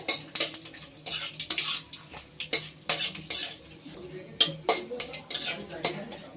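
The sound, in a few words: cumin, cinnamon and cardamom crackling in hot oil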